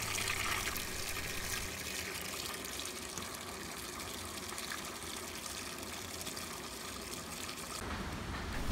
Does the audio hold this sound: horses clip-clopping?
no